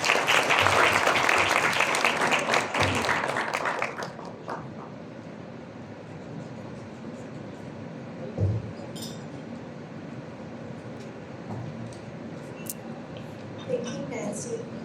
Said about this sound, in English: Join me in a round of applause for Ms. Edwina Garchitorena for her welcome remarks